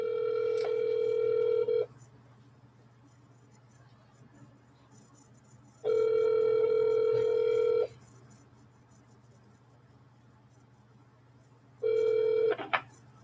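Ringback tone from a three-line automatic dialer during real estate cold calls: three separate two-second bursts of a steady tone, spaced about four seconds apart, close and clear with faint background hum between them.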